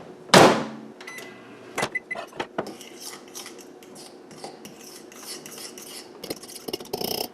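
A spoon scrapes and stirs melted peanut butter in a bowl for granola candy balls, starting with a loud clatter, then a series of close rasping scrapes and taps in an uneven rhythm.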